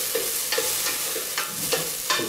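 Onion and tomato sautéing as the aderezo base for a Peruvian fish chupín, with a steady soft sizzle under repeated stirring scrapes in the pan. The scrapes come at a fairly even pace, close and moderately loud.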